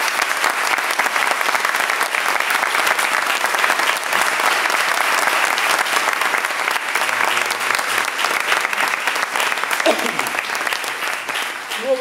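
A theatre audience in Italy gives sustained, loud applause, many hands clapping evenly for the whole stretch, with faint voices and a few brief tones surfacing near the end.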